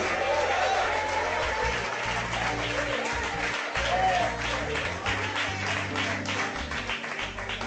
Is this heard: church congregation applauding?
yes